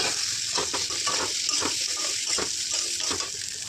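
Potatoes fried with turmeric and salt and stirred in a pan: a loud, continuous close-up sizzle broken by repeated rhythmic scraping strokes, with no talking.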